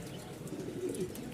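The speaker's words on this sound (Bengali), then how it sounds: "কবুতরগুলো যখন ব্রিডিং করে ঠিক আছে, আর যখন ডাকে, এই ডাক আর ব্রিডিংগুলো খুব ভালো লাগে" Andalusian pigeons cooing close by, soft low throaty rolling coos repeating over a brief moment against a faint background.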